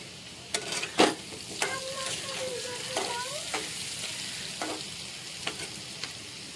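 Papad frying in hot oil in a home kitchen while vegetarian dishes are cooked, a steady broad sizzle punctuated by scattered clinks and stirring knocks, close and moderately loud.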